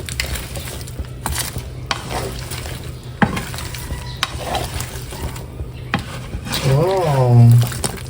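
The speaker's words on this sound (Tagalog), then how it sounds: "At haluin po natin ito." Squash and shrimp stirred in a pot of coconut milk, a spoon scraping and the liquid slopping faintly over steady background noise, with a person talking briefly near the end.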